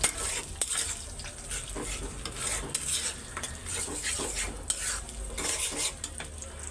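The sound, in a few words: frying potato chops (aloo chop) in a pan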